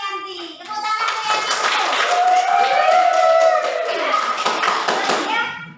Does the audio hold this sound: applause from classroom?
yes